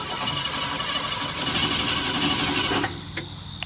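A Ford F100 Shortbed Bumpside engine cranking with the key off, a steady rapid whirring churn from the starter that stops abruptly near the end, leaving quieter background.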